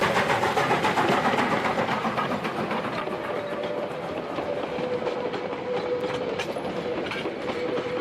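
A steam locomotive runs along the short Silver Stream line, its loud, continuous rolling rumble and clatter of wagons holding steady throughout, with a faint whistle-like tone near the end.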